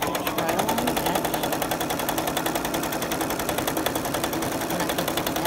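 A home sewing machine stitches along the edge of a quilting ruler, its needle chattering in a fast, steady, even rhythm that runs without pause from start to finish.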